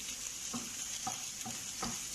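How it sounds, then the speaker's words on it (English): Spring onion sautés over low heat in a pan with a quiet, even sizzle and a few soft stirring taps, faint and close. "Saute those off for around 30"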